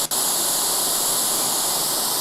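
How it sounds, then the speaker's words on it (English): Steady, dense white noise hisses at a constant level after a brief dip at the start, run through the Acceleration2 audio plugin. The hiss is loud and unbroken, with no other sounds. "this is what it looks like to run white noise through Acceleration2"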